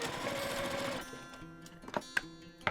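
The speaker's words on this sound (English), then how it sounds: "Then I'll just sew down to the end" A home sewing machine stitches down a fabric strap on a Bali-inspired boho bag, a steady close whir for about a second, then quieter mechanical hum with a few sharp clicks and knocks.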